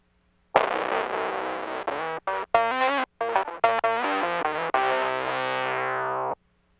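Violin played through an EHX Micro Synthesizer pedal, giving buzzy, distorted synth-like tones in several short phrases of sustained and choppy notes, loud and close with no talking.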